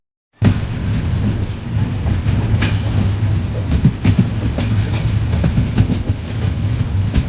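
A freight train carrying petroleum rumbles past close by in Goa, loud and continuous, with rhythmic clanks and rattles of the wagons after an abrupt start and no talk.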